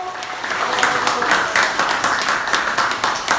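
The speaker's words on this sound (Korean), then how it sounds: "함께 박수해 주십시오." An audience at a Korean political gathering claps together, fairly close and moderately loud, with clearly separate beats forming an irregular rhythm that continues across the whole stretch.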